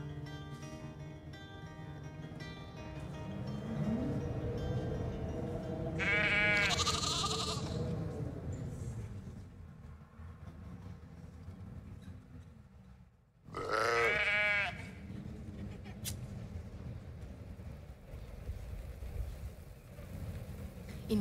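Sheep bleat twice in a field setting, each a short wavering call heard over a steady low background hum, with a long quiet gap between them.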